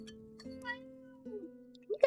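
A cat meowing in a video game, faint, with a steady tonal hum running underneath and a short rising meow near the end; a voice also imitates the meow.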